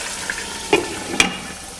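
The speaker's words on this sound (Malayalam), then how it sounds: "ഇതിലോട്ട് മാരിനേറ്റ് ചെയ്ത് വെച്ചിരിക്കുന്ന താറാവിൻ്റെ കഷ്ണങ്ങളിട്ട് മീഡിയം ഫ്ലെയിമിൽ അടച്ചു വെച്ച് ഫ്രൈ ചെയ്തെടുക്കുക" Marinated duck pieces fry in a covered pan over medium flame, giving a close, even sizzle with two brief sharp spatters or lid clicks.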